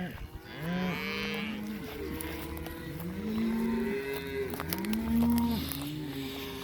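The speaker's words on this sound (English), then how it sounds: "Cows are a little bit excited because they're not used to having me or this dog walking through them." Several excited cows in a pasture moo loudly and repeatedly, with overlapping low calls from different animals at close to middle distance and no talking.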